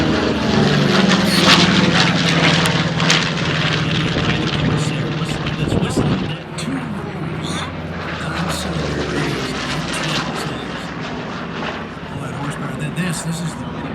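A Skyraider piston-engine warplane roars past at the Miramar Airshow, a loud, sustained propeller drone with broadband wind rush that dips slightly midway and continues steadily.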